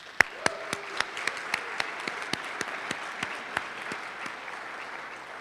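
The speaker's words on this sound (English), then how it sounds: "Give yourself a round of applause." Audience applause at a medical school clinician investiture ceremony for a class of 2026, a steady crowd clapping with scattered louder individual claps standing out, sustained throughout.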